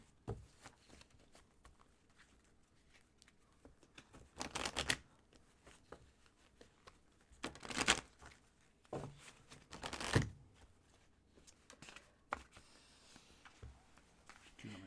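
Soft, quiet riffling and shuffling of tarot cards in several bursts, with light tapping and rustling in between.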